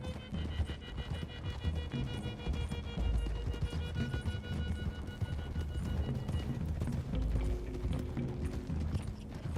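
Horses galloping in Red Dead Redemption 2, a rapid, continuous clip-clop of several sets of hooves with creaking tack and a faint musical hum beneath, loud and close for nearly ten seconds.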